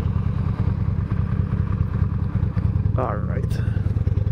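A Honda Shadow Aero motorcycle engine runs close by with a steady low, throbbing rumble throughout, and a person speaks briefly over it near the end.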